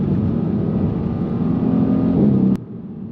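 A Mercedes C63s AMG with 510 hp accelerates hard, heard from inside as a loud, sustained engine roar that builds and then cuts off sharply near the end.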